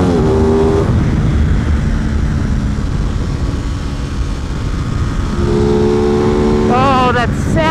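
An Aprilia RS660 sport motorcycle at full throttle on a race track: a loud, close engine roar that rises through the gears, eases off midway, then climbs again with sharp rising pitch toward the end.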